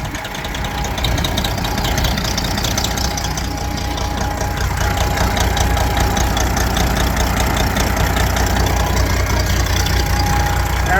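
A vehicle engine idles after a fuel filter change, running as a steady, continuous drone at fairly close range, with no voices over it.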